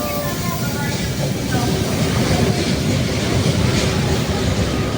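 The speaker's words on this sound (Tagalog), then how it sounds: "Wow, train oh." A train passes close by with a steady, loud rumble and faint rail clatter throughout, continuous from start to end.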